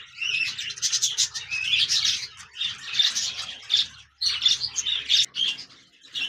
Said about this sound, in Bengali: এখানে দেখতে পাচ্ছেন এক জোড়া অ্যালবেনো রেড আই বাজরিগার পাখি রয়েছে